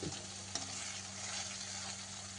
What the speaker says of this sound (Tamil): அடி பிடிக்காமல் கிண்டி இறக்கிற வேண்டியது தான்